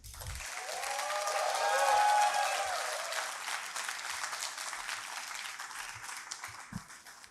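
An audience at an Urdu literary conference claps for a young reader, applause swelling quickly to a loud peak and then slowly thinning out, with only scattered claps left at the end.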